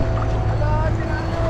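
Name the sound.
boat motor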